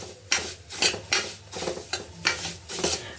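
Semolina being roasted in a pan is stirred in about six even, rhythmic scraping strokes, each a close grainy swish over a faint sizzle.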